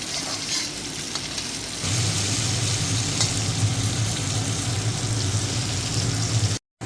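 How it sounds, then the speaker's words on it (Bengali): Food fries in a pan until reddish, giving a dense, even hiss of oil that grows fuller and louder partway through and continues without a break until a sudden brief cut near the end. "লাল লাল করে ভেজে নেব।"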